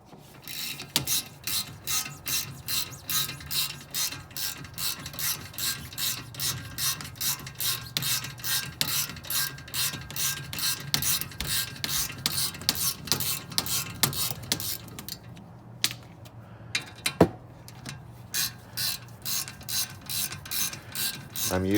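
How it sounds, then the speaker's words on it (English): Fine-tooth ratchet turning a bolt on a 2001 BMW E46 wagon, a long run of rapid, even clicks close to the microphone, with a brief pause near the end before the clicking resumes. "I'm using a fine tooth ratchet"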